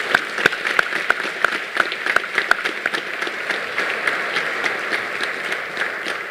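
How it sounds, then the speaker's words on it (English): A small group at an awards ceremony claps in steady applause, with a few sharp individual claps standing out at first before the clapping thins into a softer patter. "let's give a hand of applause to all those on the front line"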